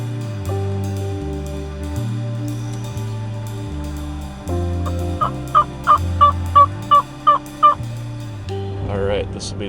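A wild turkey gobbler calls in the field during a spring bowhunt, loud repeated gobbles over a low steady musical tone, followed by a run of short rhythmic pulses and a final warbling burst.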